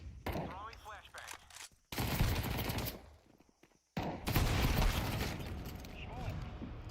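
Video game shooter gunfire in bursts of rapid shots, loud and dense, broken by brief lulls and mechanical clicks, with a voice talking over parts of it.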